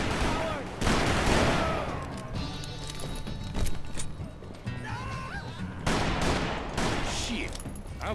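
Gunfire crackles through a shootout in the Western video game Call of Juarez: Bound in Blood during a prison break, with repeated loud shots, bursts and ricochets in irregular volleys and voices shouting between them.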